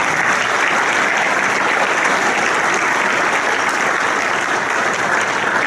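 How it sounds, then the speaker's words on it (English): Sustained applause from an audience at the 35th annual St. Barnabas Valor Awards ceremony, steady and full throughout with dense clapping and no break. "Let's have a nice round of applause for the videographer as well."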